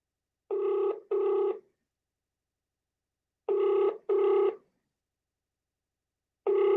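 Outgoing phone call ringing unanswered: paired ring tones repeat in a steady ring-ring cycle with silent gaps, clear and close, about three cycles with no voices.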